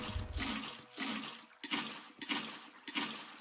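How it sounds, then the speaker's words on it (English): Water placed and flowing in Minecraft, during the building of a 1.17 XP farm: a steady, rushing wash with gentle surges, playing alone with no talk. "So we need water now, and what you want to do is put water"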